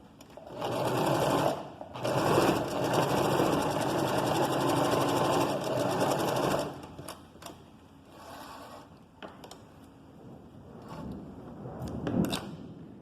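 A sewing machine stitches fabric, running loudly and steadily for about six seconds after a brief start, then gives way to quieter handling noises and a short final burst.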